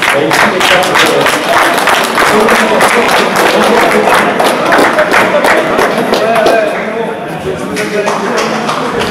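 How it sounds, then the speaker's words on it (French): A crowd applauds students at a secondary-school drone competition, with loud, dense, sustained clapping that eases slightly near the end. "Je vais les applaudir, ils ont réussi les tâches."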